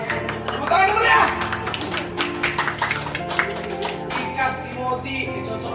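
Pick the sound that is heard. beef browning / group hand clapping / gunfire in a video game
group hand clapping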